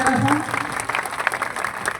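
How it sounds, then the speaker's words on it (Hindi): An audience at a live event applauds, a dense, continuous patter of many hands at moderate distance, while a voice talks over the clapping. "जोरदार ताली बजा के स्वागत करें जरा सा"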